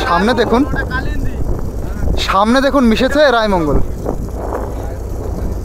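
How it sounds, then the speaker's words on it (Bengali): A boat engine drones steadily on the Kalindi river in the Sundarbans, with wind rushing past the microphone while someone talks over it throughout. "তো এই যে আমাদের নৌকাটা এবার ছাড়ছে ওখান থেকে"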